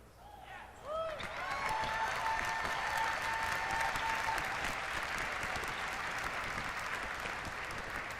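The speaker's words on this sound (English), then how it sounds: "I hear people cheering" A large convention-hall audience at BlizzCon bursts into loud, sustained applause and cheering during a World of Warcraft presentation, rising within a second and holding as a dense wash of clapping, with a voice heard briefly at the start.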